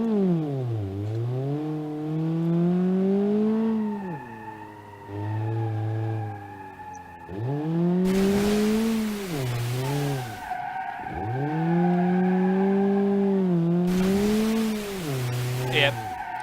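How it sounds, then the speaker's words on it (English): Cars in the BeamNG.drive video game corner on a wet surface, with engines revving and rising and falling in pitch through repeated sweeping turns and bursts of loud tire hiss and skidding. "we're going to see how well they corner on a wet surface"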